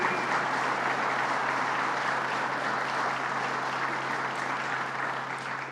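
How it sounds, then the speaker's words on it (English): Loud, dense applause from a large audience at a news conference in Massena, sustained and even from start to finish, tapering only slightly at the very end. "Let's give him a round of applause, Howard Zemsky."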